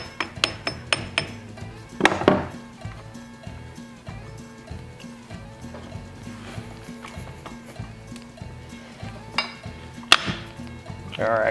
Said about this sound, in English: Just lightly tap that shaft in.